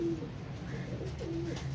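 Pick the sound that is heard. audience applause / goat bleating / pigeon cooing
pigeon cooing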